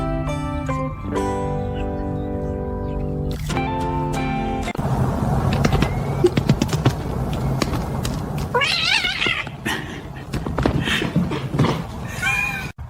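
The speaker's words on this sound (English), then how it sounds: "Buddy, it's just a cat." A house cat meows and yowls repeatedly, close and loud, with long drawn-out wails and shorter cries mixed with thumps and household noise.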